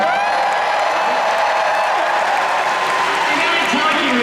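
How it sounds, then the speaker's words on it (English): A large convention crowd at a Disney showcase applauds and cheers loudly and steadily throughout, a dense wash of clapping with scattered whoops. "I can imagine it by the sounds of the crowd."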